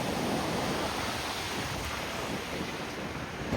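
Sea waves at Colva Beach in Goa, a continuous broad roar of surf mixed with wind buffeting the microphone, steady and fairly loud throughout.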